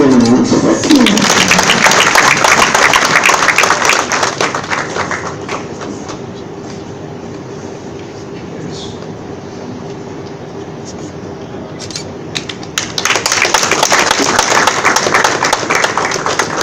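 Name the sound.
audience applause at graduation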